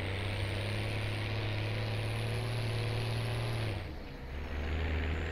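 A tractor in Farming Simulator 17 drones with a steady low engine hum and a sustained tonal whine, then its pitch drops and shifts partway through, heard alone with no talk.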